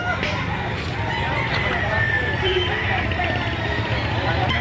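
At a Saturday poultry market in Lipa City, Batangas, chickens cluck and a rooster crows amid a dense, constant crowd din, with people talking throughout.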